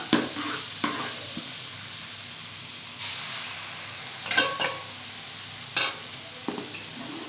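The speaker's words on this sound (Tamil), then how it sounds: "இந்த ஸ்டேஜில் வந்து நம்ம வந்து முட்டையை ஊற்றி நல்லா கருக்கிக்கலாம்" Egg is poured over cooked vegetables and fried in a pan for chicken fried rice, a continuous sizzle broken by several scraping stirs and spatula knocks, no talking.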